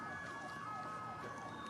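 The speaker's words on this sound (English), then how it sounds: "you can hear the sirens which tell you of the solemnity" Sirens wail steadily at a presidential swearing-in ceremony, a sustained tone heard at a moderate distance over crowd ambience.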